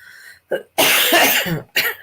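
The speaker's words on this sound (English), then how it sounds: "I still have somewhat of a cough." Several harsh coughs close by: a short one, then a longer rough burst, followed by another cough after a brief pause.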